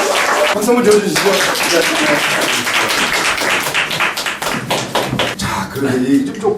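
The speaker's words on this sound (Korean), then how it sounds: "박수 한번 쳐주시죠" A studio audience claps for a woman stepping up to sing on a Korean talk show. The applause is dense and close, with some sharp individual claps, and voices talk over it.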